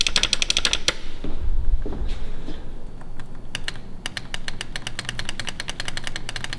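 Sharp, rapid clicking of arcade buttons on an Arcade1Up cabinet, bursts of loud close taps in quick rhythm with a short pause in the middle, over faint background hum.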